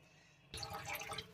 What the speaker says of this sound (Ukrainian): А от ще я забув зняти, як я набираю воду.